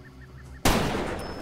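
A single loud gunshot rings out in Far Cry 2 after a quiet stretch of faint game ambience, and its broad blast trails off into a sustained noisy tail.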